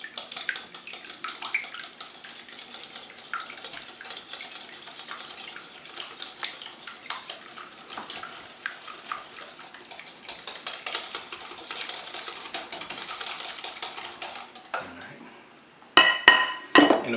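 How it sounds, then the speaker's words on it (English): Sour cream mixture for Bananas Foster French toast is stirred in a bowl, a light, continuous clinking and scraping of utensil against the bowl, fairly quiet, ending with a few sharper knocks. "I'm just going to mix all this together."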